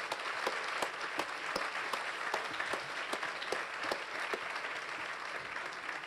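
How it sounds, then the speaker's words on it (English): An audience applauds a panel at a climate emergency discussion on cities, steady sustained clapping from a crowd in a hall, moderately loud and even throughout with no talking over it. "could you just give a big round of applause to our panelists?"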